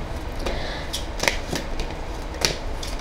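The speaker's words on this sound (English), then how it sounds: "The cards are very sticky here, guys, so let me just give another shuffle." Tarot cards that are somewhat sticky are shuffled up close, a series of crisp slapping riffles spaced irregularly over a soft hiss, with no talking.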